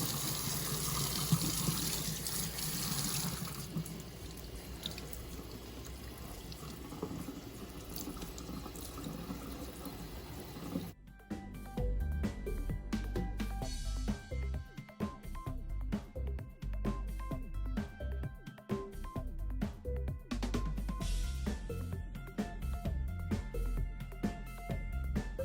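Tap water runs into a sink, rinsing soaked salted dried cod fish; a steady gushing stream that shifts in tone midway as the flow hits the fish and basin, close and continuous.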